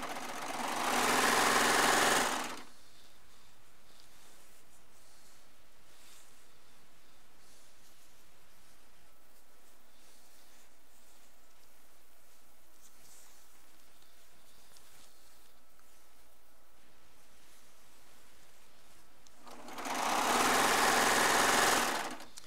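A Baby Lock serger stitches fabric ends together in two loud, fast, buzzing bursts, one at the start and one at the end, separated by a long near-silent stretch with faint room noise and no talking.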